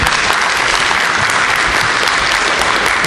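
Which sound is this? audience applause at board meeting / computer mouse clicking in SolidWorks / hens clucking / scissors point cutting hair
audience applause at board meeting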